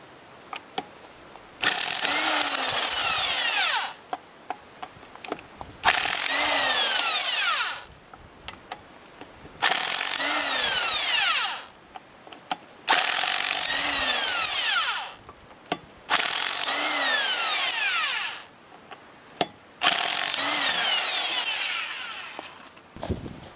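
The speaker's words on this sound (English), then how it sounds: "And here's the electric impact wrench, no need for an air compressor, and a 3/4 inch impact socket." An electric impact wrench with a 3/4 inch socket removing the wheel lug nuts of a Hummer H3, five loud whirring bursts of several seconds each separated by short pauses, close and without talk.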